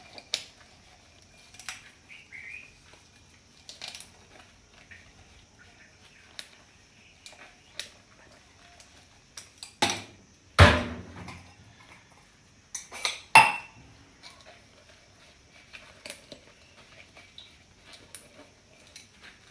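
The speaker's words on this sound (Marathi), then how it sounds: "मी भांडी घासते." Dishes, pots and cutlery clink and clatter during washing, with scattered light taps and a few louder bursts of metal knocking together midway, heard close and alone without talk.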